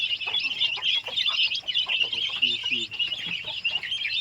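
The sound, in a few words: many chicks peeping and hens clucking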